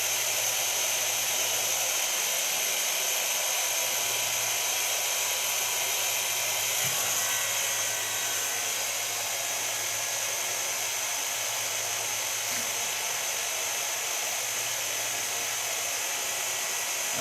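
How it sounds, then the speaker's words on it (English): A hair dryer fitted with a diffuser dries curly hair, giving a steady loud whooshing roar with a constant motor whine that runs unbroken throughout. "So I'm going to work with a diffuser and I don't want to stir the curls."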